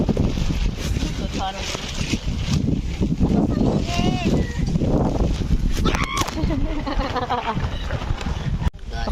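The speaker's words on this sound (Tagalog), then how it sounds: "Ang lakas ng hangin." Strong wind gusts at a family campsite buffet the microphone with a loud, continuous low rumble while people talk over it.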